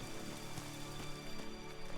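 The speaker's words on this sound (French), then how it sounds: "Alors, il pleut, apparemment." Steady rain falling in the video game ELEX, arriving outside a large city: a dense, continuous patter of drops on surfaces, moderately faint and even throughout, with no voices.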